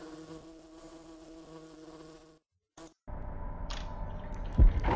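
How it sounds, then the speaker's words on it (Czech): Insect-like buzzing of flies in the dungeon-management video game Dungeon Keeper, a steady droning hum with a brief pause midway, then a louder, denser buzz resuming alone. "Vypadá to, že tam jsou mouchy."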